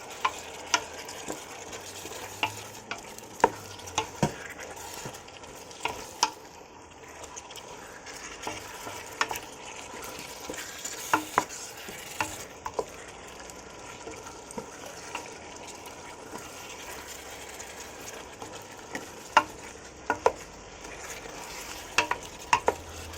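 Belly pork steak sizzles softly in a pan, a steady fry broken by frequent sharp clicks and scrapes of a utensil against the pan, with no voices.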